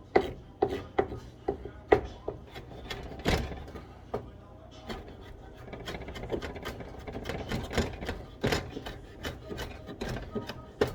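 Knife chopping ingredients on a cutting board during seafood prep, a run of sharp close taps in uneven bursts, some quick and clustered, others spaced out.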